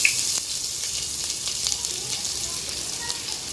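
Onion sizzling in hot oil with cumin seeds, cinnamon, cloves and bay leaf, a loud, steady hiss of frying with faint crackles and a brief clatter at the start, no voices.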